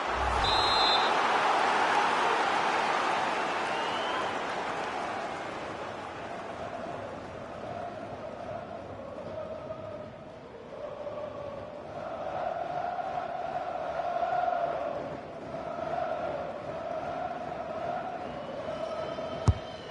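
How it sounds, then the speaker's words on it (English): A stadium crowd in a FIFA World Cup 2026 match on PS5, Canada vs Bosnia and Herzegovina, gives a sustained roar that dips and then swells again with chanting, loud and continuous throughout. "the crowd are willing them to score here"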